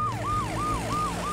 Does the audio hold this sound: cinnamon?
no